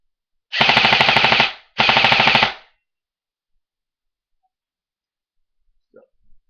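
An M4 airsoft gun fires two rapid full-auto bursts, each a dense rattle of about a second, close and loud, followed by near silence and a faint click or movement.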